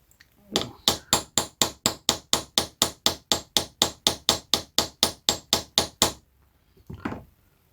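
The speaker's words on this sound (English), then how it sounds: "Just very lightly tapping, hardly any force at all really" A light hammer taps a Damascus ring, about twenty crisp, evenly spaced metallic strikes in a quick steady rhythm, close and clear, followed by a short pause and one softer sound.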